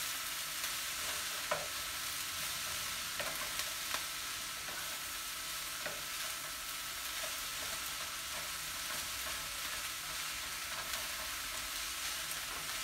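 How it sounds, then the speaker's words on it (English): Onions and garlic fry in a pan with a steady, dense sizzle, while a spoon stirs them and gives occasional soft scrapes and taps. "we'll stir those onions in, stir that that garlic in there real good"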